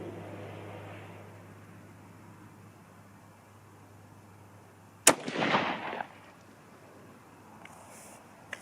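A single sharp rifle shot from a Winchester 760 chambered in 6.5 Creedmoor, loaded with 120-grain Sierra Pro Hunter bullets, cracking out once outdoors and followed by a brief rolling echo, with quiet surroundings before and after.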